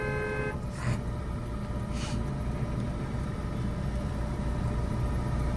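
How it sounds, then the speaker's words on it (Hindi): A car horn gives a short toot at the start, then steady engine and road rumble from inside the car carries on without further honking. "लॉन्ग हॉर्न प्रेस करना है"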